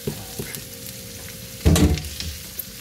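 Garlic and onion sauté in a pan with a quiet sizzle, a few light taps, then a sudden louder rattling clatter of stirring for a moment.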